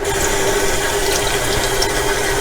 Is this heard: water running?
yes